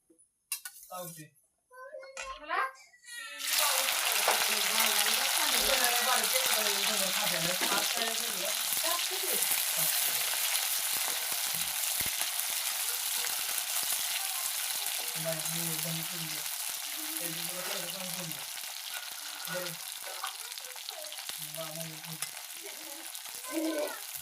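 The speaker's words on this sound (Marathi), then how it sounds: "तर आपलं तेल गरम झालेलं आहे त्यामध्ये भेंडी तळून घ्यायची आहे" Okra for a stuffed okra dish fries in hot oil. After a few seconds of quiet handling, a loud, steady, close sizzle takes over and continues, with a voice speaking over it at times.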